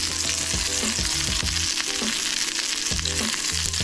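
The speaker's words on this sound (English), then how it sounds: "Because this is toasting up" Sprigs of sage, rosemary and thyme sizzle and crackle steadily in a hot pan, close and continuous, with no voices.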